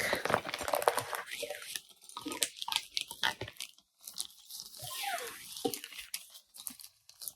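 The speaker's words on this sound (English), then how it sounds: "Stuck zipper." Crinkly rustling and tugging at fabric, with short scraping bursts as a stuck zipper is yanked several times, close by, with a few soft vocal sounds.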